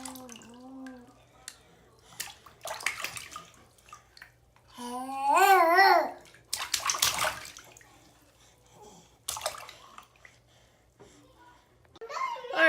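A young child babbles and plays in a bathtub at home, high chattering vocal bursts mixed with water splashing and dripping, close and intermittent with quiet gaps between.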